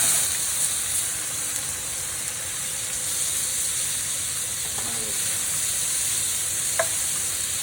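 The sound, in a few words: peppers and minced garlic sizzling in a pan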